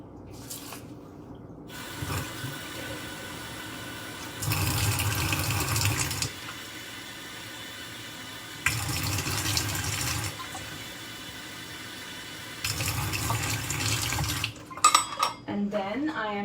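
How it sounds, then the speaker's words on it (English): Water runs from a tap in several separate bursts, splashing into a pot of jasmine rice, with quiet clinks of kitchenware between pours. "to that I'm going to add 2 cups of water"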